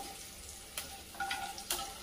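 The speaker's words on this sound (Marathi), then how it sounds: "हळद पण अशी छान परतून घेऊया." Turmeric sautéing in a pan for a raw-mango kadhi gives a soft, steady sizzle close by, with a couple of brief stirring scrapes and no talk.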